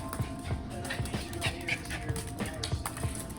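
Dogs at home greet their returning owner with a string of rhythmic whimpers, yips and short low barks, close and continuous, while someone talks excitedly over them.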